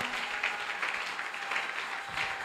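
Congregation applause at a French-language church service, a steady, moderately loud wash of clapping held at an even level, ending with a sharp close thump.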